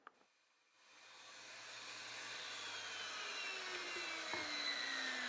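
A Kobalt 7-inch tile wet saw spins up and bites into brick for plunge cuts, a loud steady whining grind with a droning motor tone that holds close and constant after a brief quiet start.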